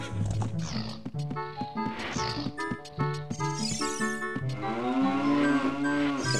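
Cows lowing in The Legend of Zelda: Ocarina of Time, a sequence of drawn-out, sliding moos that overlap and swell, loud and close over a continuous game soundscape.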